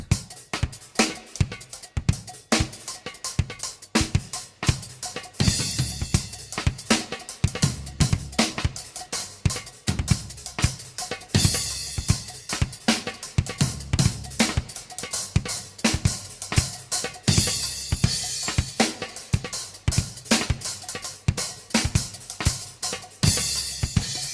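A drum kit plays a dense polyrhythmic groove, sixteen evenly spaced hits set against a cycle of twenty-seven, with sharp cymbal and snare strikes over steady kick pulses, loud and continuous with no voices.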